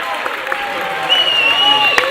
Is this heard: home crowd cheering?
yes